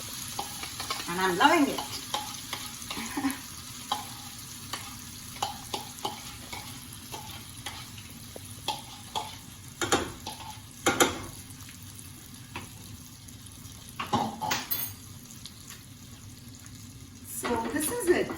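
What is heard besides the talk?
sauteing cashew in ghee in a pan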